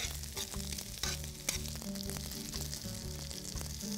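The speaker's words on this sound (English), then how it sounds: "I'm gonna turn the chicken. They're ready for a flip. And they should be nicely browned." Pumpkin-crusted chicken pieces sizzle in a pan, a continuous, fairly quiet frying hiss heard alone beneath faint background music, with occasional small pops.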